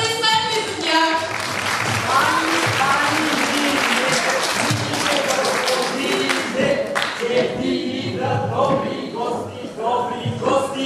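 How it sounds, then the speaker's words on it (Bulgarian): Concert audience at a Christmas folk concert applauding steadily for several seconds, a dense wash of clapping that gives way to singing voices near the end. "Нека ги аплодираме! Аплодисменти за тях!"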